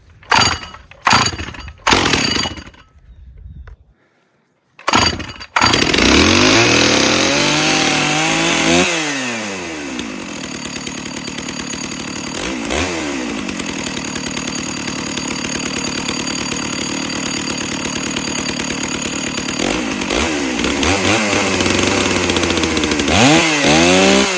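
A Stihl MS660 Magnum chainsaw sputters a few times, goes quiet, then roars to life and runs loud and steady with occasional revs, no talking.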